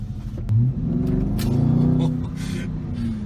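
A 2020 Dodge Charger Scat Pack Widebody engine rumbles low and heavy from inside the car, swelling as it accelerates, with a faint murmur of voices in the cabin.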